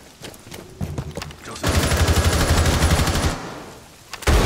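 Rapid automatic gunfire in Rainbow Six Siege on the Hereford map, a dense sustained burst after a few scattered shots, loud and close, with a short quiet gap before another loud shot at the end.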